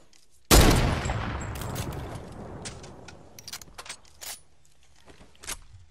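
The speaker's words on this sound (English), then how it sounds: "Can you start shooting him?" Gunfire in the video game Fortnite during a four-versus-four fight, one loud sudden blast followed by a decaying rumble and scattered sharp shots and clicks, with no talking.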